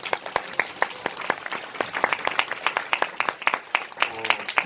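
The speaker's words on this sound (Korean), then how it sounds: "다시 한번 큰 박수 부탁드립니다." Audience applause at a Korean Nu Skin business presentation, a steady patter of many hands clapping with individual sharp claps audible, continuing throughout.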